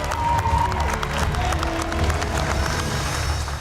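Former MasterChef Canada contestants clap and cheer in a dense, loud, continuous burst of applause from a close crowd in a studio kitchen.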